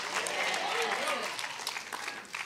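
A church congregation shouts and claps in a dense, continuous wash of applause and cheering voices, loud and steady throughout.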